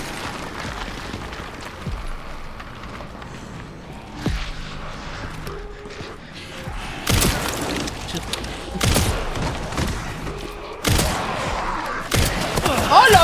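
Gunfire in the video game Resident Evil Requiem, with several loud heavy shots bursting over a low rumbling game soundtrack.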